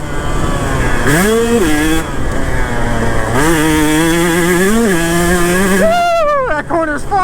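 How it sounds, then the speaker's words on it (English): A KTM 150 SX two-stroke dirt bike on a motocross track screams loud and close, its engine revving up and down in repeated rising sweeps as the rider works through corners. "That corner's fun on the two-stroke, baby."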